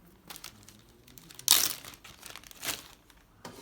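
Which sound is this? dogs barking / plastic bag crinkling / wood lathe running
plastic bag crinkling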